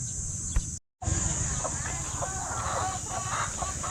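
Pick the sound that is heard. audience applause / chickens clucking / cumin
chickens clucking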